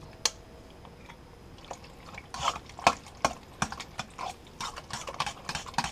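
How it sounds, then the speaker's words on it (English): Raw oio bonefish is stirred with oyster sauce in a bowl, giving irregular wet clicks, squelches and taps of the utensil against the bowl, close and fairly quiet. "Just mix everything in."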